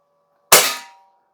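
Single shot from a Gamo P-430 CO2 dual-ammo pistol firing a BB outdoors, a sharp, loud crack close by that ends quickly after a brief tail, with quiet before and after.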